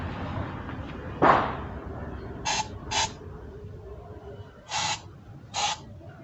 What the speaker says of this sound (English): That's insecticide spray, just to keep off the flies